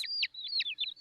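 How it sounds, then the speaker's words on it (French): Baby birds in a nest in an animated cartoon give a quick series of high, thin chirps, about five in a second, close and bright. "Ces bébés oiseaux ont l'air d'avoir faim"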